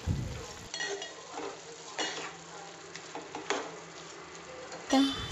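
Moong dal stirred into a ridge gourd curry in a pan, giving soft intermittent scraping and clinking of a spoon against the pan over a low sizzle, with a louder clank near the end.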